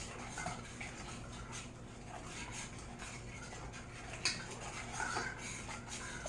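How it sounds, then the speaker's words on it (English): A child's cooking activity: a spoon stirring a mixture in a dish until it dissolves, giving soft, continuous scraping and light clinks against the bowl, fairly quiet, with one sharper knock near the end. "you can go ahead and stir this"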